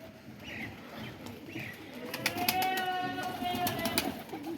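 Pigeons coo repeatedly at a rooftop loft with a netted flight setup, soft rolling calls close by alongside a few sharper chirps and a rising background murmur.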